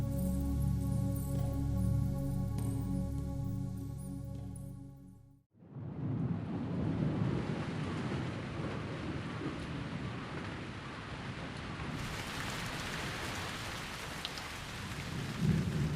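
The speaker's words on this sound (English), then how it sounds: "In April every year, the heavens open, denoting the onset of the rainy season." A tropical rainforest rainstorm with thunder in Hainan: a deep rolling thunder rumble gives way to a steady dense downpour of rain hissing on foliage and surfaces, loud and continuous.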